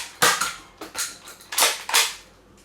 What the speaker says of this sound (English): this is the first one where you can actually dry fire it